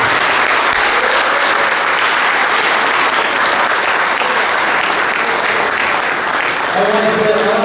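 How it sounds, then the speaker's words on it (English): Banquet audience applauds parents at a boys lacrosse banquet in a fire department hall, loud sustained clapping from a large crowd, with a voice starting to speak over it near the end. "give a round of applause for all the parents at every level"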